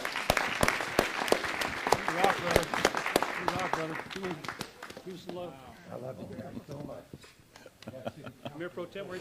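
Applause at a city council meeting during a trophy recognition, a burst of clapping early that thins out while voices talk over and after it.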